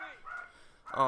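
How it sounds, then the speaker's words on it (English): A dog barks in the background of a room where gameplay is being recorded, a brief sharp bark at the end following a few faint whines, with speech-like sound overlapping. "excuse the annoying dog in the background."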